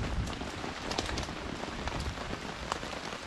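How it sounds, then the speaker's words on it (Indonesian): Heavy rain pours steadily onto a tent at a campsite on the slopes of Mount Raung, a dense, continuous hiss of drops pattering close on the fabric with no voices. "hujan lebat. Ah, hujan guys."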